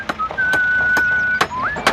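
A man whistles a tune as he works in a radio advert, a clear melodic whistle with sustained notes and slides, punctuated by several sharp percussive knocks from work sounds.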